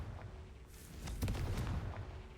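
A Confringo fire spell goes off in the video game Hogwarts Legacy, a single muffled blast that swells within a constant dense low rumble of game sound, moderately loud and without speech.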